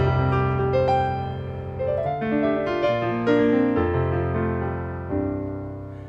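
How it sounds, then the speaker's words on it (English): Concert grand piano voice on a Casio CT-S1 keyboard plays a short run of ringing notes that overlap and slowly decay, close and clear with no speech. "This is the sound of a 9-foot concert grand."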